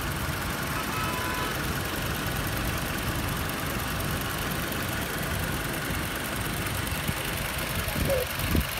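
A 2007 Toyota Innova engine idles steadily up close, a continuous even hum with a faint mechanical clatter, with no voices.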